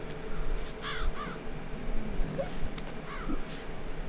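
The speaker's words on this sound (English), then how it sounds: "That's a drunken crow." Several hoarse caws come from a drunken-sounding crow in the Child of Light video game, arriving in short pairs near the start and again toward the end over a low ambient bed.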